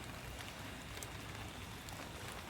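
Rain pours down at a night fishing spot in the middle of rice paddies, a steady broadband hiss of drops hitting surfaces, constant and fairly close, with scattered brighter taps and no one talking.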